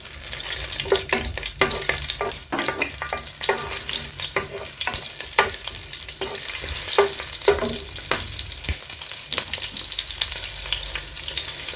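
Green chillies frying in a pan of hot oil for Kovai Angannan-style chicken biryani, a steady sizzle broken by repeated clacks of a spatula stirring, close and fairly loud with no talking.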